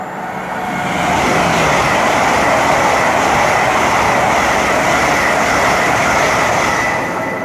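Great Western Railway Class 800 units 800-031 and 017 pass at Twyford on the Great Western Main Line, a London Paddington to Bristol Temple Meads service. A loud, close, continuous rolling roar builds quickly and stays steady.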